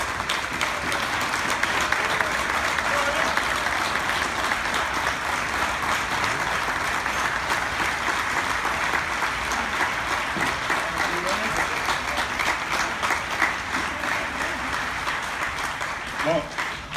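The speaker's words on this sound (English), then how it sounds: "we want to give him a big round of applause" Audience at a fair's opening ceremony breaking into a big round of applause, steady dense clapping from a crowd sustained throughout at a moderate distance.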